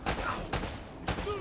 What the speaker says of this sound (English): You're shooting at somebody. Who are you shooting at?